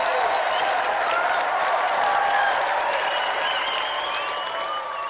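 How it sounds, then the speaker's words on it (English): A television game show studio audience applauds loudly and steadily, dense clapping mixed with some cheering that holds the whole time and eases off slightly at the end. "Another round of applause"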